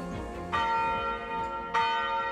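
Church bells of the abbey bell tower at Saint-Martin du Canigou peal with a sustained ringing hum, two strong strikes a little over a second apart standing out over the continuing resonance, loud and clear with no voices.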